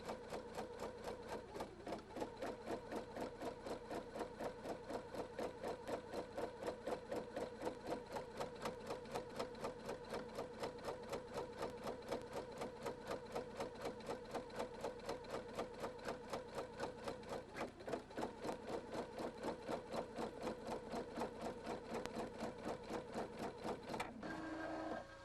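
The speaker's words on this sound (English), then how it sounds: "An outline is basted around the embroidery area." A Husqvarna Viking Designer II embroidery machine basting a straight-stitch outline around the embroidery area on flimsy fabric, a rapid, steady mechanical stitching chatter that runs without pause, even and close throughout.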